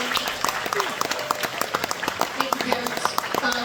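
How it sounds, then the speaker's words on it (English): Middle school students applauding their parents at a school concert, a broad crowd of hands clapping steadily and loudly, with scattered voices and cheers mixed in. "Students, can you give your parents a huge round of applause for the support that they give you?"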